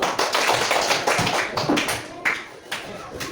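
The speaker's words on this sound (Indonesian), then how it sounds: "Tepuk tangan dulu." A group of students in a classroom claps their hands in a fast burst of close, sharp claps, thinning out toward the end.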